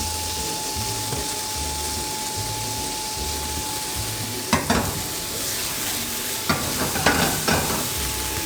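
Garlic and onion sizzle steadily in a frying pan in a restaurant kitchen, with a constant hiss, a steady hum, and a few louder scraping stirs near the end.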